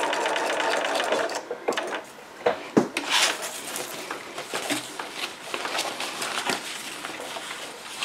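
A sewing machine stitches in a rapid, steady mechanical chatter, close and loud, broken by a few brief pauses and handling clunks, with no speech.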